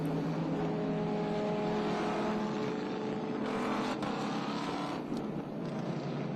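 A vintage Allard race car roars past on the Watkins Glen circuit during a historic racing event, its engine note holding loud and steady with a strong, sustained drone and slight pitch shifts as it goes by.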